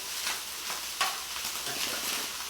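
Fried rice with sesame oil stirred in a hot pan, a steady sizzle broken by a few scraping strokes of the spatula and one sharper clack against the metal.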